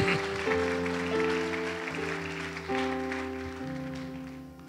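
A congregation claps at a Spanish-language wedding church service, a steady wash of applause over sustained keyboard chords that shift every second or so and carry on throughout.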